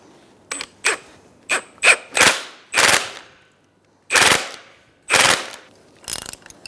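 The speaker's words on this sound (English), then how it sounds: "now we're going to tighten this nut down" A ratchet tightens a front strut mount nut on a 2002-2006 Toyota Camry, giving about nine short, sharp bursts of rapid clicking separated by brief pauses, close and loud.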